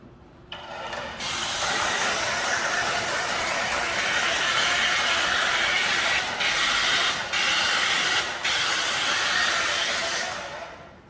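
An airless paint sprayer runs after its pressure builds up, giving a loud, steady broadband hiss that starts abruptly and holds for several seconds, briefly dipping a few times before cutting off.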